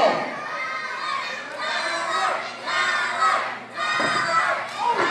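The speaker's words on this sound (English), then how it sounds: "Cheer for Tyler now." A crowd at a fight between two boxers or fighters roars and shouts in surging waves, loud and close, with a brief dip before rising again.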